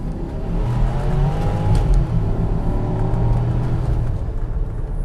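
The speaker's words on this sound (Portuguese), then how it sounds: "o barulho dessas turbinas biturbo" A powerful twin-turbo Porsche Cayenne Turbo S engine revs loudly and steadily, its deep rumble rising and holding with a turbo whir, close by, with no voices.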